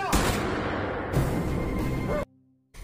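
Gunfire during an attack on a car in the 2022 Disney+ series Gannibal, a loud, dense burst of shooting and booms that runs for about two seconds, then cuts to near silence before resuming briefly.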